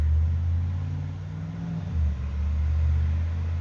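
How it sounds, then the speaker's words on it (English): A loud car drives past on a street close by, its low engine rumble swelling and fading over a few seconds, with no talking. "if you heard that car go by, they're all super loud."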